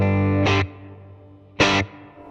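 Electric guitar played through a Fender Mustang GT amp set to a large hall reverb, two distorted chords struck about a second apart, each leaving a long, spacious reverb tail that lingers between and after them.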